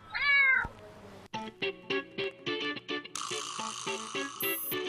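A Siamese cat gives one loud, drawn-out meow, followed by a rhythmic run of short, pulsing snorts or purring sounds, close and clear.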